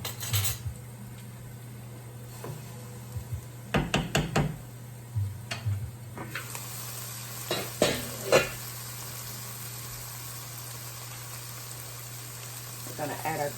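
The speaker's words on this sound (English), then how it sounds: "we just want to cook the cranberries until they pop open" Cranberries with cinnamon cooking in a pan, a steady low simmer broken by clusters of sharp taps and knocks from stirring, close up.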